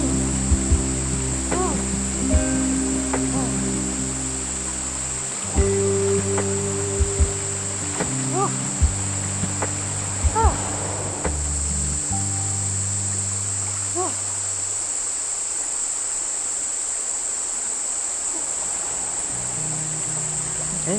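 Steady rushing creek water at a small swimming spot beside the Lacey Creek rest area in tropical north Queensland, a continuous broadband wash with a low hum underneath and people talking intermittently over it.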